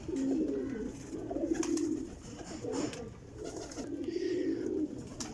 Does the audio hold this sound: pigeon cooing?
yes